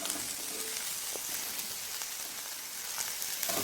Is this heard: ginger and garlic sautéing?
yes